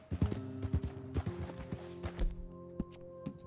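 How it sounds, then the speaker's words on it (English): Horses in the Red Dead Redemption 2 video game, a small group of Hungarian half-breeds, give out a string of hoof clip-clops over a low steady hum, the steps uneven and fairly close. "Got some more horses hanging out on this side."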